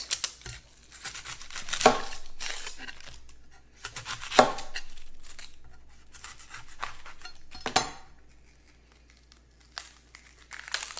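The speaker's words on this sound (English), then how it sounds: "Just cut it in really thin slices. The thinner the better." A knife slicing a red onion into thin slices on a board, with a few sharp crisp cuts spaced through a quiet stretch and soft handling rustles between them, close and fairly faint.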